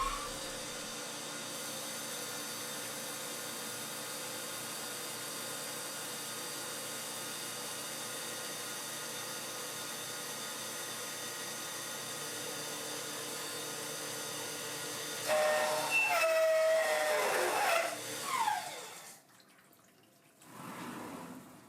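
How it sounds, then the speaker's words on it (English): A CNC mill doing conventional milling while making a votive holder gives off a steady, quiet whine with ringing tones for about fifteen seconds, then a louder, rougher stretch of cutting noise near the end. "I change from climb milling to conventional milling to see if that makes any difference"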